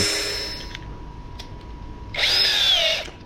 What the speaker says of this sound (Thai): ดอกสว่านเล็กนำก่อน